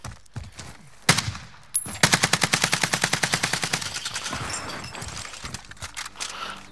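Rapid automatic gunfire from a shooter video game, with scattered single shots first and then a steady burst of evenly spaced rounds lasting about two seconds, followed by fainter distant shots.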